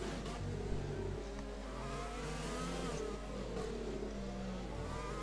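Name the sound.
race car engines in F1 2020 video game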